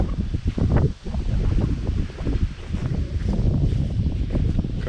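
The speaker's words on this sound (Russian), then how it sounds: "Ветрище такое сегодня." Strong, gusty wind batters the microphone outdoors at a rural plot in the countryside, a steady loud roar and rumble that swells and dips throughout with no talk.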